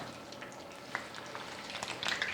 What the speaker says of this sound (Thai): ทอดให้สุกทีละด้านนะคะ